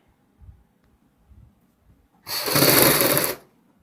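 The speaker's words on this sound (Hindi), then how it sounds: "इसी प्रकार हम घेरे की सिलाई भी कंप्लीट करेंगे।" A sewing machine runs in one loud burst of about a second, stitching the hem of a kurti, after a few quiet soft handling knocks.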